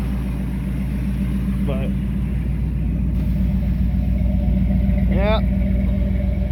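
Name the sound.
old truck engine idling while warming up on cold start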